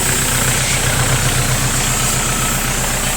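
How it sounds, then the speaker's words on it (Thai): A Kubota L4708 tractor from 2012 idles with its diesel engine running steadily close by, a continuous rumbling chug with a regular low pulse and no talk over it. "เดี๋ยวไปดูเครื่องยนต์เปิดเครื่องยนต์หน่อย"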